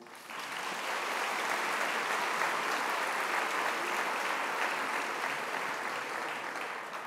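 Sustained audience applause fills a graduation ceremony hall at AgroParisTech, steady and dense from start to finish with no voices on top.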